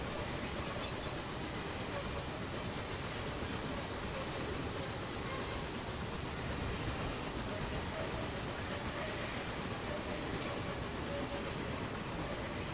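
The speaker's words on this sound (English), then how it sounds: "dang good looking locomotive" A Pere Marquette N-1 2-8-4 Berkshire steam locomotive in Train Simulator Classic rolls along with a dense, steady rumble and rail noise, continuous and even throughout, with no talking over it.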